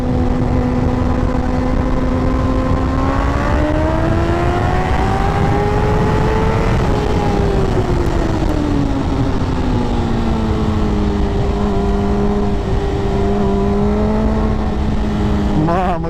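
A Suzuki GSX-R 600 sport motorcycle at full throttle in second gear, its engine loud and close, with a steady high whine rising in pitch, easing slightly and then holding continuously throughout.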